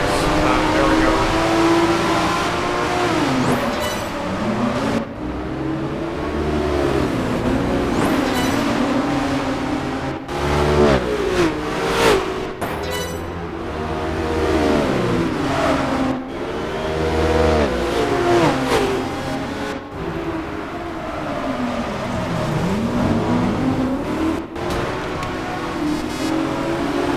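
TVR Sagaris sports car engine racing in Project Gotham Racing 4, a loud continuous roar with rising and falling revs through gear changes, with brief dips between shifts.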